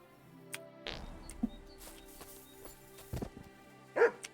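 A dog in the video game Kingdom Come 2 gives a few scattered, faint barks and yips over a quiet in-game backdrop with a low steady hum.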